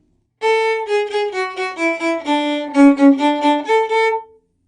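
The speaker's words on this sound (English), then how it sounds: "If we now do the retrograde inversion to that, we're playing it backwards and upside down." The Twinkle Twinkle tune sounds in retrograde inversion, played backwards and upside down as a string of clean synthesized notes in steady rhythm, closing on a longer tone, with no voices.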